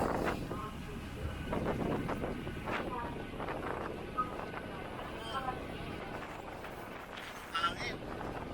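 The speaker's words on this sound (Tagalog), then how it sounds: "ang lakas ng hangin" Strong, steady wind buffets the microphone in a constant low roar at Milford Sound, New Zealand, with voices talking faintly underneath.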